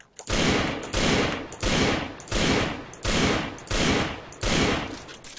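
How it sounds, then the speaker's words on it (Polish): Six loud, evenly spaced Desert Eagle pistol shots in CS:GO, each with a sharp crack and short decaying tail, about one second apart. "To jest dobry strzał z Digla."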